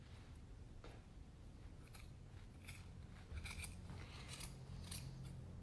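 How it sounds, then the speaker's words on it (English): Repeated snips of large scissors cutting through yarn loops for pom poms, a quick irregular series of crisp close-up cuts over a low steady background hum. "I'm just cutting through all those loops"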